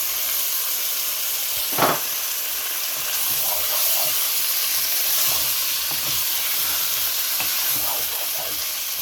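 Chicken marinated with yogurt and red chili is stirred in a pan, giving a steady bright sizzle with a soft hiss of steam and occasional faint stirring scrapes, one brief louder knock near the start.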